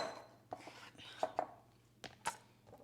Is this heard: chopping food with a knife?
yes